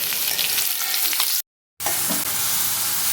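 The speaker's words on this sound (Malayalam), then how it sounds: "ശേഷം മിക്സിയിലിട്ടടിച്ച ഉള്ളി പച്ചമുളക് വെളുത്തുള്ളി എല്ലാം അതിലേക്ക് ചേർത്ത് കൊടുക്കാം" Ground onion, green chili and garlic sizzle steadily in a hot pan, a loud continuous frying hiss with stirring scrapes, briefly cut off near the middle before resuming.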